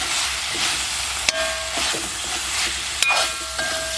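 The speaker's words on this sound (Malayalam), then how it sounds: "ഇനി നമുക്ക് എല്ലാം കൂടി ഒന്ന് യോജിപ്പിച്ച് കൊടുക്കാം." A spoon or spatula stirs beef pepper roast in a hot pan as it fries, giving a steady hiss with two sharp scrapes against the metal.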